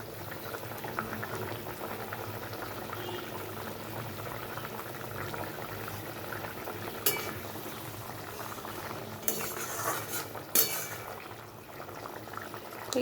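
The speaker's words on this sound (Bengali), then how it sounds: "মাছটা দিলাম, এবার একটু ভালোভাবে ফুটে যাবে" Rohu fish and potato curry bubbling in a pot, a faint, continuous boil with a few brief clinks or splashes partway through, no talking.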